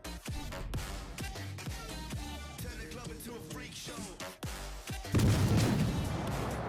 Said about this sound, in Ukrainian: Давайте постріляємо в байеру.